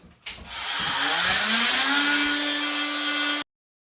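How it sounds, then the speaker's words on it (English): A power saw with a Rockwell blade cuts sheetrock, starting up and running loud and steady for about three seconds, its motor pitch climbing, then stops abruptly. "Now that the cut has been made on the sheetrock"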